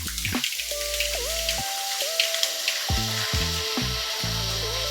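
Boondi batter dropped into hot oil over a high flame sizzles steadily and close by, with scattered crackles and pops; a musical tone also runs through the background.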